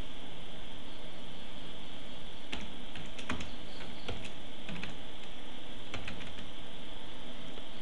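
Header text being typed on a computer keyboard in Word, with scattered clicky keystrokes in short bursts over a constant hiss of background noise.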